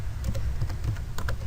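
A computer keyboard being typed on to enter an Excel formula, a quick, irregular patter of light keystrokes close by, with no talk.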